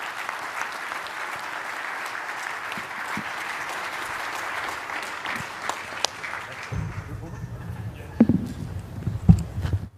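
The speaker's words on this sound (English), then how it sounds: "Please give Mr. Diaz a big round of applause" Audience applause at a keynote on Army multi-domain operations: steady, dense clapping for about seven seconds, then the clapping drops away and a voice talks over a few scattered claps.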